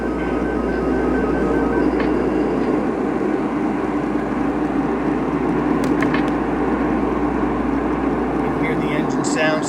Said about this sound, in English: So let's go ahead and start up the engine now that we've got that out of the way.